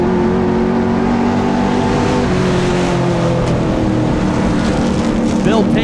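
Super street race cars roaring around the Wiscasset Speedway oval as a pack, engines droning steadily and loud, with a race announcer talking over them.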